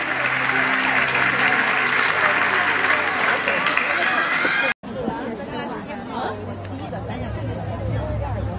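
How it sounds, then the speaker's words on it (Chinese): Audience applause at a Weibo Night awards gala, with dense clapping and crowd chatter that cut off abruptly and are followed by a quieter murmur of hall noise and talk. "掌声有请他们"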